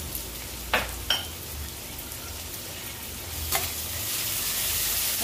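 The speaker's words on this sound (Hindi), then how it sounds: "अदरक लहसुन को भूनेंगे ताकि अदरक लहसुन का जो कच्चापन है" Ginger garlic paste fries in a pan on a home stove, a steady soft sizzle with a few sharp clinks and scrapes of a spoon stirring, close and fairly quiet, with no one speaking.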